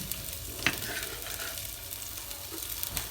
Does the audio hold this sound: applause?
no